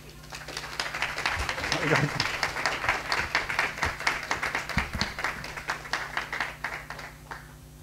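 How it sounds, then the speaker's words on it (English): Church congregation at a Sunday service dedication applauding, a sustained round of clapping that swells and then tapers off, with voices talking over it. "please just give um, Lily and Chris a bit of a round of applause as they come up."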